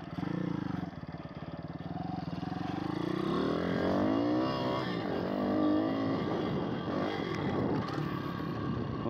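A Kurz RT1 pit bike engine runs flat out, a steady high-revving buzz with rising pitch sweeps as the throttle is held pinned, moderately close.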